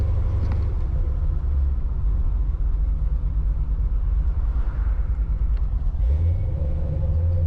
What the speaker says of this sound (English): I push the clutch in right now. You watch the RPM just drops and then hold solid.